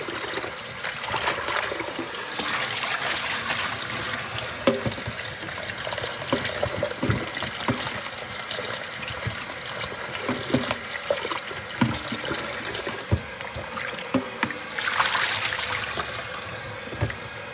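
Tap water runs steadily while food is washed in a kitchen sink, a continuous splashing trickle with occasional louder gushes and clinks near the microphone.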